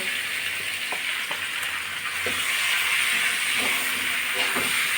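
Spice paste with green chillies sizzling steadily in a pan as it is sautéed, a constant loud frying hiss with occasional soft stirring scrapes, no talk.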